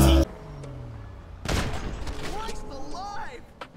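A sharp burst of gunshots rings out in a GTA roleplay server on LucidCity, hitting hard partway through, followed by a lingering tail and faint tonal game sounds.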